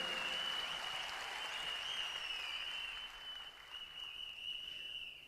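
An audience at a business meeting claps loudly for the team and management, a continuous wash of applause from a sizable crowd with a steady high tone ringing underneath, fading somewhat in the later seconds.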